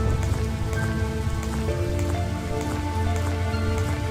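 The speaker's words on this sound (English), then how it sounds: "I remember the rain." Steady rain pours down in the video game I Remember the Rain, a dense continuous patter of drops on surfaces with soft music tones underneath and no talk.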